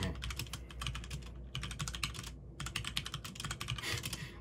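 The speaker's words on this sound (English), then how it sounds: "So I'm just gonna do a little typing test for you, for a little sound test." Typing on a HyperX Alloy Origins keyboard with Aqua switches gives a fast, steady clatter of crisp key clicks close up, broken by a couple of brief pauses.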